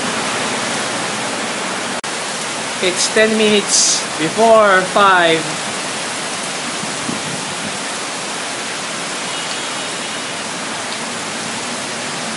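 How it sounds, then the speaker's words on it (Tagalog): Heavy rain pours in a dense, steady wash of broadband hiss through the whole stretch, while a person speaks briefly over it partway through. "Alakas ng ulan."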